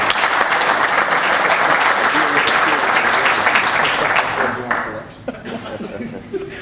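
Loud audience applause at a business roundtable anniversary event, sustained dense clapping mixed with chuckles and murmured voices, tapering off after several seconds as talk and laughter continue.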